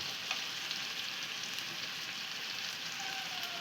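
Onion fries with ginger, cumin and garlic paste, making a constant, even hissing sizzle. It is close and unbroken, with no voices.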